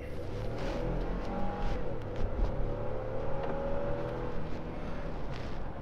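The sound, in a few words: 2015 Ford F-150 XLT pickup accelerating hard from 20 mph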